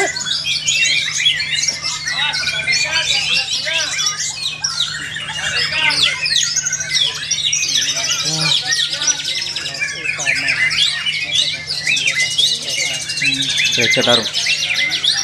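A white-rumped shama (murai batu) sings at a bird-song competition, pouring out long, dense, varied phrases of chirps, whistles and squawks, loud and continuous, with other birds and faint talk in the background.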